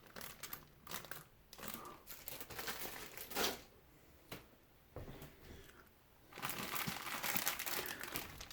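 A plastic hardware bag from a Tamiya CC-02 Mercedes G 500 kit crinkling as it is handled, irregular rustling bursts close to the mic, fairly quiet and growing busier toward the end.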